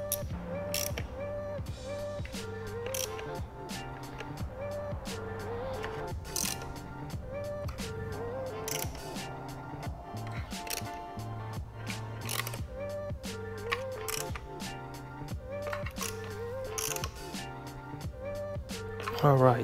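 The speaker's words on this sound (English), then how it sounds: "I'm gonna take the ratchet and make sure they're properly torqued" A ratchet torques down velocity stacks on an Aprilia RSV4 motorcycle, giving a close series of rapid, regular clicks in repeated bursts with creaky mechanical pauses between them.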